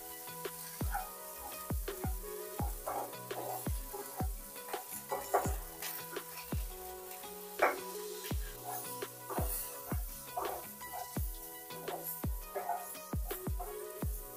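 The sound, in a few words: boiled vegetables sautéing in a pan on high flame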